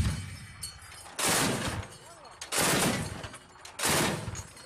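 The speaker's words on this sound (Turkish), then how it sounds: "Esed askerleriyle muhalifler arasında Daraya kentinde sert çatışmalar devam ediyor." Gunfire during clashes between government soldiers and opposition fighters in the city of Daraya, heard as three loud, rough bursts of rapid shots spaced a second or so apart, with quieter noise and faint voices between them.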